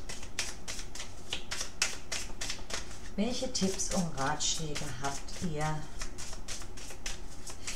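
Tarot-style reading cards being shuffled in rapid, regular riffling clicks throughout, continuing steadily under someone speaking German in the middle.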